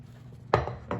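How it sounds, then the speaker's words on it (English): A beans and onion mixture is spread onto a parchment-lined baking tray, heard as two short, close scraping knocks of a utensil against the tray with quiet pauses between. "spread our beans and onion combo onto our tray"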